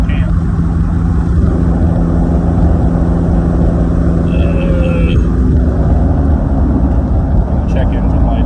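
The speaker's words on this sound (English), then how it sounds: "Flooring it again on flat ground in fourth." A Jeep Wrangler engine floored in fourth gear on flat ground, a loud steady drone heard from inside the vehicle, with a few faint higher tones briefly rising over it.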